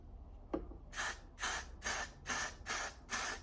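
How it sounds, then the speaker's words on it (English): A soft click, then six short, close bursts of a hair glue aerosol spray in a steady rhythm, each a bright hiss separated by brief pauses. "I'm going to take the Got To Be Glued spray, and then I'm going to spray it here"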